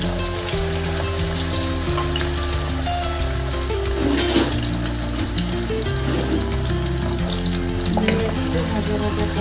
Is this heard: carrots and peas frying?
yes